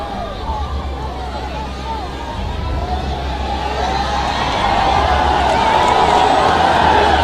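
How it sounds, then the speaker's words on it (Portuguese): Cabo Verde supporters fill the stands at a football match against Timor-Leste with a steady, dense roar of crowd noise that swells toward the end, while a commentator speaks over it. "a torcida de Cabo Verde fazendo a festa aqui na arquibancada"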